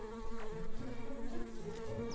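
Bees in the video game Secrets of Grindea hum in a continuous, wavering buzz, close and moderately loud, with pitch shifting as they move about.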